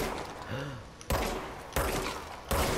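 Bursts of gunfire from the video game Control as objects are shot, three sharp loud blasts each trailing off, with a brief vocal sound mixed in.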